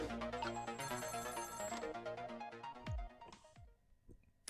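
An old-style telephone bell rings in rapid repeated trills in the game Ghost Trick, then breaks off into a few short falling tones, with no talking.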